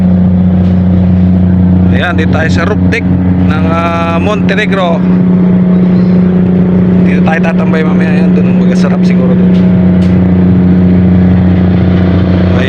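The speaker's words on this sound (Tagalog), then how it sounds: "Lumalakas na ang ugong." A steady low engine drone hums continuously underneath while a person talks over it, with occasional faint wind or background noise.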